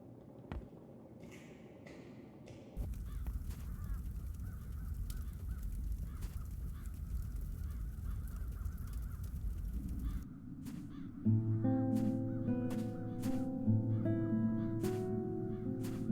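Crows cawing in The Dark Eye: Chains of Satinav video game, harsh repeated caws over a low ambient drone, later joined by a soft melodic game tone.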